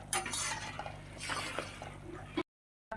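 Potato and chickpea curry with spices stirred in a pan, close scraping and wet clinking of a spoon against the metal in a few bursts before an abrupt cutoff.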